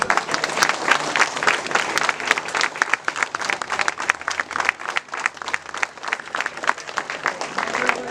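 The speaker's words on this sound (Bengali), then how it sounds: "এখন ফিতা কেটে আনুষ্ঠানিকভাবে উদ্বোধন করা হচ্ছে। সবাই হাততালি দিবেন।" Dense, steady applause fills a crowd gathered for the ribbon-cutting inauguration of Chashirhat New Market in Sonaimuri, with many hands clapping continuously at close range and no break.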